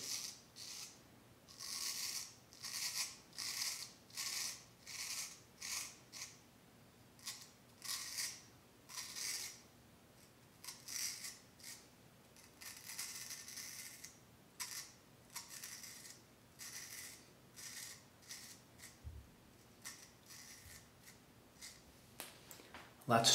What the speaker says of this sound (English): Cold steel on face.